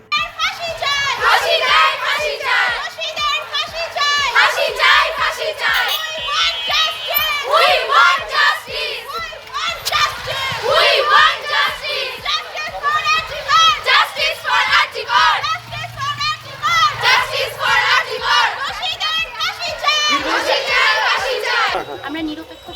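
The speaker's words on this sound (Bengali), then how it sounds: "এই প্রতিবাদ মিছিলে ছাত্রীদের মুখে একটি স্লোগান, উই ওয়ান্ট জাস্টিস।" Female college students chant slogans loudly in rhythmic unison at a protest march through a town in Malda, a dense crowd of high voices repeating phrases continuously throughout.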